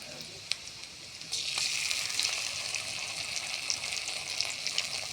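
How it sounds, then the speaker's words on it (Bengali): Puti fish curry sizzling and frying in a pan while being stirred, a steady crackling hiss that swells after a soft start, with light scraping taps of the spoon throughout. "দিয়ে নাড়াচাড়া করতে থাকবো তারপর দিয়ে দেবো আদা বাটা"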